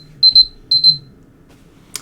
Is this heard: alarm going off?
yes